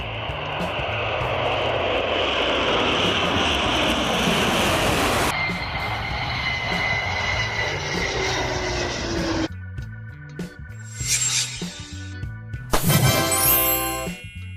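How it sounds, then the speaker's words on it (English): Soviet Myasishchev M4 long-range bomber, a loud sustained engine roar with broad rushing noise that shifts and changes character partway through, heard alone without speech. "This is the Myasishchev M4, first produced in 1953 in the Soviet Union"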